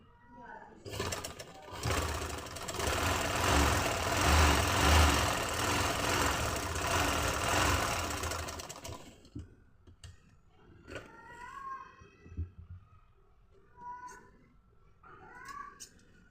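Sewing machine stitching the last seam of a trouser: steady loud mechanical whirring for about eight seconds, then it stops and quieter handling noises and occasional speech follow.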